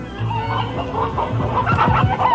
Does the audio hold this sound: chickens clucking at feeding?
yes